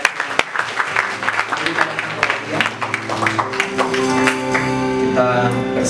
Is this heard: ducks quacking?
no